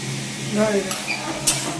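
Meat coated in spice paste sizzling in a pan while a spoon stirs it, for a khuska pulao. The frying hiss is soft and steady with brief scraping strokes, and a voice is heard faintly in the background.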